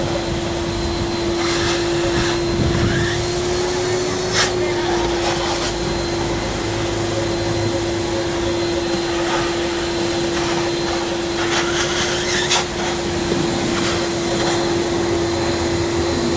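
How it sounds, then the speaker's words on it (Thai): A vacuum cleaner sucking up dust runs with a loud, steady whining drone that holds from start to finish, with faint clatters and bumps along the way and no talking. "ดูดฝุ่นให้สะอาดครับ"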